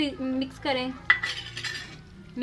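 A utensil scrapes and clinks against a pan as thick garlic and ginger paste is stirred, with a voice speaking over the quiet kitchen noise.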